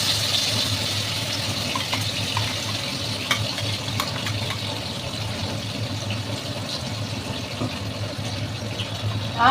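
Something is rinsed under running tap water in a kitchen, a steady close rush of flowing water lasting throughout with small splashes and no talking.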